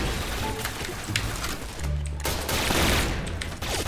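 Continuous machine gun fire in the Point Blank shooter game, dense rattling bursts almost without pause, loud and close, with a brief lull in the middle.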